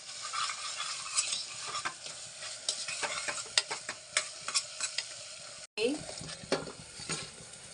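Ground ginger-garlic and garam masala paste sautéed in oil for Agri-style mutton, with steady sizzling and frying under repeated scraping and stirring strokes of a spoon against the pan, close and continuous.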